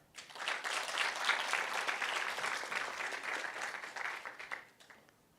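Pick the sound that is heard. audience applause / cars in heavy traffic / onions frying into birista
audience applause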